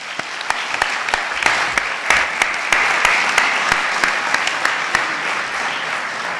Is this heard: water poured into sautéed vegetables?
no